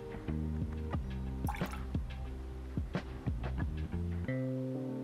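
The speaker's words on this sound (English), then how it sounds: "I'm gonna throw a little water in here and see if it makes a difference." Water is added to a glass of bourbon whiskey in a series of close, distinct drips and small plops with irregular timing. A low steady hum sits beneath them.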